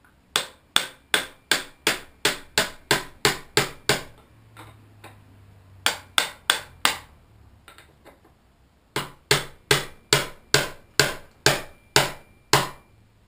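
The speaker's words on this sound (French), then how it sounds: "on peut le faire avec un marteau burin mais très léger" Light hammer and chisel tapping on a steel part while fitting an 8fun Bafang BBS02 48V 750W bottom-bracket motor kit: three bursts of sharp, evenly spaced metallic strikes, close and loud, with short quiet pauses between them.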